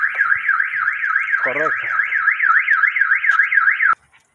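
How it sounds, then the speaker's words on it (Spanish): A car alarm wails in a rapid, steady up-and-down siren at close range, looping for about four seconds before cutting off abruptly into silence; a brief spoken word interrupts midway. "se le enciende la alarma del carro"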